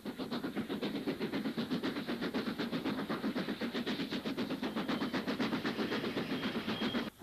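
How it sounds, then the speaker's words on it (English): Steam locomotive 44947 passes hauling an empty, unfitted coal wagon train bound for Yorkshire pits, a long steady rhythm of wheels clicking over rail joints as wagon after wagon rolls by close and loud. "Bolton Sheds 44947, in excellent condition, passes with an empty, unfitted coal wagon train bound for the pits of Yorkshire."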